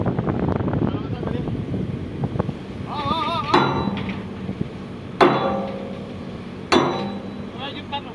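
Heavy hammering while a large bucket is fitted onto a Cat 336D2L excavator outdoors: three sharp, well-spaced metallic strikes over wind noise and background talk.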